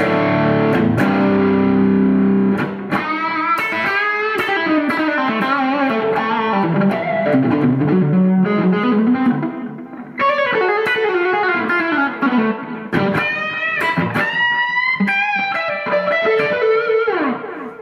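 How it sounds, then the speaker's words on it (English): A heavily distorted electric guitar, played through the bridge humbucker, plays chords and riffs, loud and sustained, with brief breaks between phrases; no voices. "if I go to the bridge humbucker, I can get a pretty good distortion"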